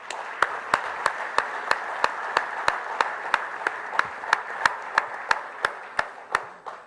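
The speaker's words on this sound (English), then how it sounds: "Let's give them another hand of applause." Applause at a press conference announcing a partnership with Petersburg comes as about twenty sharp, evenly spaced claps in a steady rhythm over a quiet room hum.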